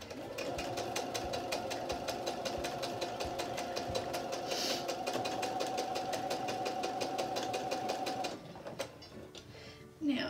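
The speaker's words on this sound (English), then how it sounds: "Sew them with a 1/4 inch seam." A sewing machine stitches a quarter-inch seam on a rail fence quilt block, running in a fast, steady mechanical rhythm for about eight seconds before stopping, followed by a brief soft handling noise.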